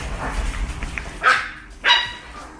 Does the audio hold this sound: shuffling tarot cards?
no